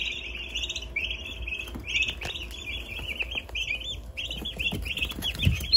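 A turkey poult and several ducklings chirp steadily with high, overlapping peeps while being moved to an outside brooder, with light bumps and handling noise beneath the calls.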